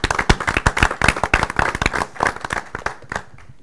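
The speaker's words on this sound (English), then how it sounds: "just would want to give her a round of applause for her efforts" Short burst of clapping at a school board meeting during an all-staff recognition, a handful of close hand claps in an uneven rhythm that thins out toward the end, with no talk over it.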